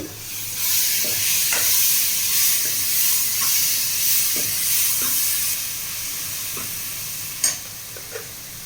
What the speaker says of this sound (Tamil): மீன் குழம்பு நல்லா வதங்கி இப்போ வந்து நம்ம வந்து மசால் சேர்க்குறோம்